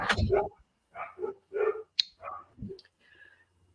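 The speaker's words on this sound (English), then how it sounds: "Sorry, my little guard dogs." Small guard dogs bark sharply at something moving outside, a quick run of yaps and whimpers close by.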